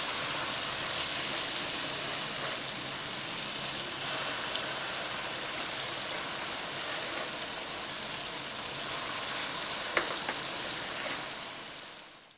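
Puff-puff dough frying in a pot of hot oil, a steady dense sizzle and crackle that stays loud and even throughout, with no voices over it.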